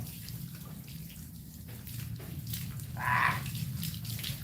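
Water runs steadily from a tap while a dog is bathed outdoors, a continuous splashing wash with a brief brighter gush near the end, no talking.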